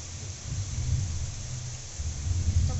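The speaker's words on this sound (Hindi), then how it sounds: "बारिश भी आज बहुत तेज़ हो रही है, बहुत ही ज़्यादा तेज़ एकदम" Heavy monsoon-style rain pours steadily at home, a dense continuous wash with low rumbling undertones and no voices.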